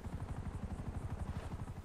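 Helicopter in the GTA V video game, its steady rotor thump close and loud throughout with a continuous engine drone.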